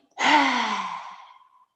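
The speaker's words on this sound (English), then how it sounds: "now into lion's breath" A long, forceful open-mouthed exhale from lion's breath in a yoga practice, rising suddenly and trailing off over about a second and a half, breathy and close with a voiced rasp underneath.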